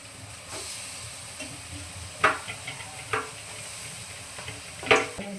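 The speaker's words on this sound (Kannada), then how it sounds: "ಈಗ ಬೀಟ್ರೋಟ್ ಹಾಕೋಣ." Beetroot goes into a hot pan with a soft, steady sizzle and hiss, punctuated by a few sharp scraping knocks of stirring against the pan, all fairly quiet and close.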